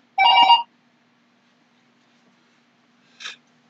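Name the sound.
telephone ringing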